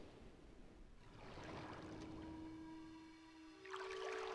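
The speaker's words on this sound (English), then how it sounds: "which has kind of a lapping water sound," Ambient game soundscape at the crystals in Myst on Atari Jaguar CD: soft lapping water under a low wind, with a faint sustained whistle tone rising near the end, quiet and without talk.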